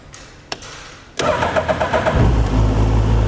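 A racecar engine fitted with drive by wire cranks over with a brief starter whir, then catches and settles into a loud, steady rumbling idle close by.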